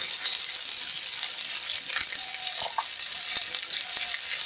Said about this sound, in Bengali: এবারে চালতাটাকে লাল লাল করে ভাজে নেব।